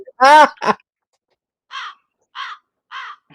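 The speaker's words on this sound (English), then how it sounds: "The birds are squawking." Crows cawing, a few harsh loud caws up close followed by three shorter, softer caws spaced about half a second apart.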